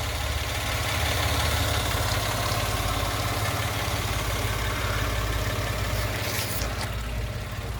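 A 2016 Mitsubishi Mirage GLX engine idles steadily up close, a continuous low throbbing hum with an even mechanical rhythm and no talking.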